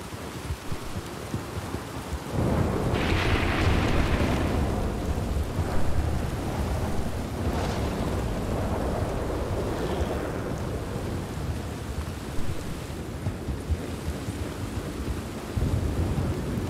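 Steady rain and rumbling thunder from a nighttime storm in the video game Red Dead Redemption 2, a loud continuous downpour with a heavy thunder roll near the start and swelling rumbles throughout, with no voices.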